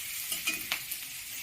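Cashews, peanuts, capsicum, ginger and bay leaf fry together in hot oil for chicken pulao, making a brief, even hiss of sizzling with a few faint stirring scrapes close by.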